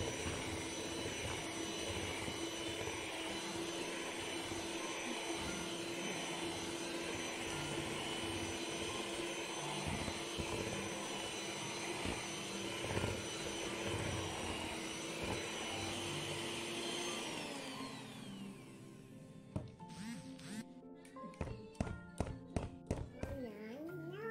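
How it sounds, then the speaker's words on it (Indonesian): An electric mixer beats cookie dough with a whole egg and egg yolks, a steady loud whir running for about eighteen seconds before cutting off, followed by scattered taps and clinks of bowl and utensils. "Ini di mixer sampai kira-kira 1 menit saja."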